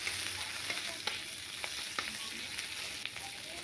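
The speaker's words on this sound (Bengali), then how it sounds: "পেঁয়াজটা ভাজা হচ্ছে, একটু ভাজা" Onions frying in a wok-style kadai for a Bengali chochhori, a steady broadband sizzle with a few sharp crackles and spatters, close and continuous, with no talking.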